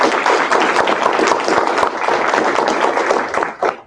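A conference audience claps for a panel at a blue-collar STEM event, steady dense applause that tapers slightly near the end.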